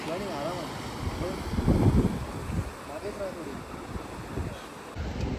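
Sea waves washing onto Ganpatipule beach on the Konkan coast, a steady broadband surge that swells loudest around the second second, with wind buffeting the microphone throughout and no talk.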